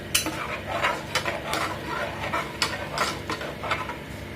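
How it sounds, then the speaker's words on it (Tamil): Beetroot kulambu bubbling at a boil in a pot, a steady close simmer with scattered soft pops and clinks, no voices. "நல்லா கொதிக்குது, நல்லா கொதிச்சு வருது."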